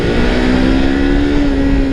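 A new motorcycle pulls hard in second gear during an acceleration test, its engine droning loud and close with a steady, slowly rising tone that holds for the whole stretch, no voices over it.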